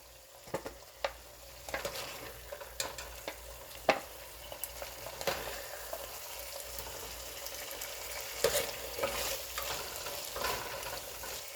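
Paneer and vegetables stirred in a frying pan for vegetable dum biryani: a steady soft sizzle under repeated clinks and scrapes of a spoon, fairly quiet and close.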